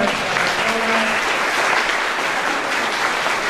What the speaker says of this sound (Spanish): Un aplauso a Santa Teresa.